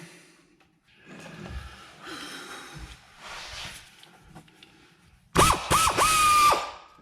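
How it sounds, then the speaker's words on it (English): A power tool drives a 15mm socket onto a rear shock nut of a 2017 Ford Escape. Faint clatter and rummaging come first, then a loud, close impact burst sounds in short pulses near the end. "So now I'm going to go ahead and get a 15mm socket and try to blast that in there."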